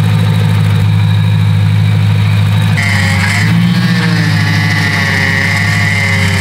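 A BMW E91 M3 wagon engine running with an odd sound while power steering is low, a loud steady close idle drone and hum, with a whining tone rising partway through.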